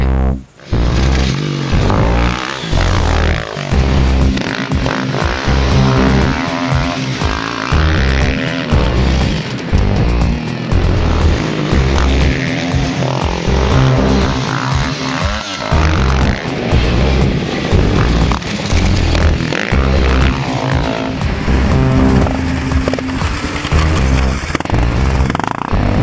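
A 2010 Husqvarna motorcycle rides a lap, its engine loud and continuous throughout, with varying throttle and no talk over it.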